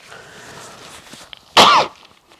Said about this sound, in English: Just a moment, I have to cough.